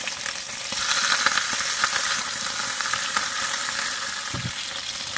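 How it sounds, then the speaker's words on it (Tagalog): Chicken pieces fry in a wok with a continuous bright sizzling hiss and scattered crackles, steady and close, with no voices. "Ipagpatuloy lang po ang pagprito sa natira nating chicken pieces."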